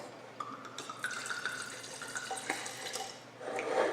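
A wine glass being rinsed under running water, with soft trickling and drips that swell into a fuller splash near the end, close by and fairly quiet, with no talking.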